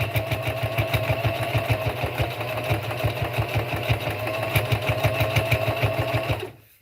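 A sewing machine stitches a pot holder onto a tote bag, running at a slow, even rhythm of rapid needle strokes close by, then stopping abruptly at the end.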